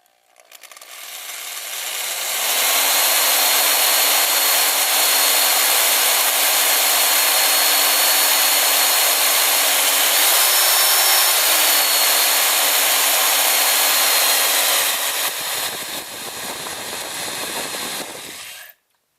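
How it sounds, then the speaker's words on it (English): Power drill boring into the wooden butt of a shotgun to fit a sling mount, a steady loud whirring drone held for about twelve seconds with a brief pitch rise midway, then winding down. "This is where we're actually drilling into the butt of the gun."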